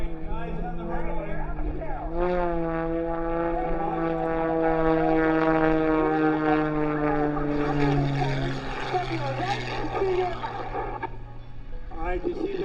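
A monoplane engine at an air show runway, a steady propeller drone with slowly sliding pitch, rising and falling as the aircraft passes, heard throughout at moderate distance with crowd noise around.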